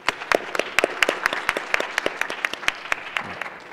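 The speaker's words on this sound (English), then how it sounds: "Really give a round of applause for Daniel for all the work." A modest symposium audience gives a round of applause, distinct individual hand claps at a steady patter, moderately near and fairly sparse, with no talk over them.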